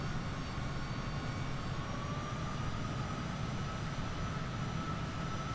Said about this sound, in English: See that afterburner, dude.